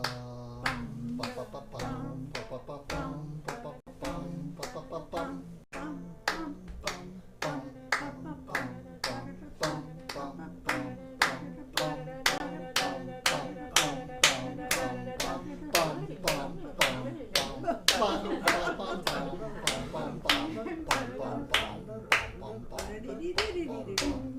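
One person claps steady, evenly spaced beats at a string quartet rehearsal, the claps sounding crisp and close over sustained singing and string tones that build through the passage.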